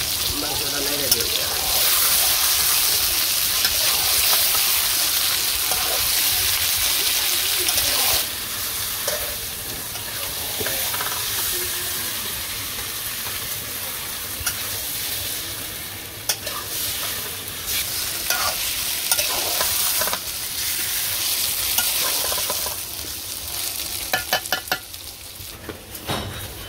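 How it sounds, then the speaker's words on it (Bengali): Meat frying in a pan is stirred continuously at close range, giving a loud sizzle with repeated scraping and metallic clinks of the utensil against the pan. The sound is uneven and busy, and faint voices can be heard in the background. "মাংসটা নেড়ে দিই।"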